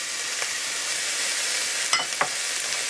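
Celery is added to a sizzling frying pan for bean soup, a constant hiss broken by a few light scrapes and taps from stirring.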